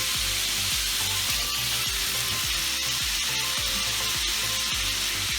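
Vegetables sizzle steadily in a hot pan after a sprinkle of seasoned salt, a loud, continuous frying hiss with rhythmic stirring scrapes throughout and no voices.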